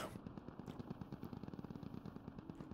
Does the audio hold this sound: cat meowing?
no